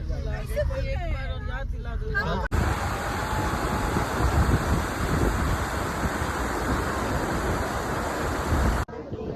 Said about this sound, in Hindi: कितनी ठंडी हवा चल रही है यहाँ पे